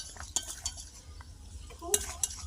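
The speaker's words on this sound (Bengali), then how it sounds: "এবারে ভালো করে ফের কষিয়ে নিচ্ছি মশলাগুলো দিয়ে" Spices are stirred and sautéed in a pan over a stove: a spoon scrapes and clinks against the metal in quiet, irregular strokes, with a couple of sharper taps near the end.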